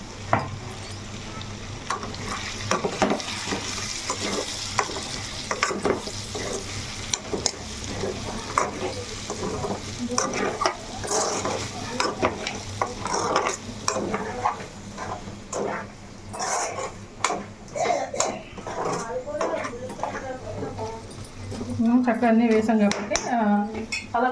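Masala and onions frying in a pan while being stirred, with clinking utensil-on-pan scrapes throughout and sizzling underneath, busier clatter near the end; a voice talks at times.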